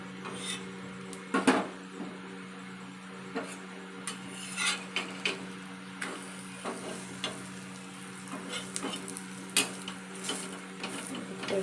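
An egg frying in a pan, a steady soft sizzle with occasional scrapes and clinks of a utensil against the pan, fairly quiet and close.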